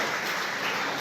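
Steady crowd applause fills the hall at a formal school event in Bilaspur, a dense, even wash of clapping with no pauses and no voices over it.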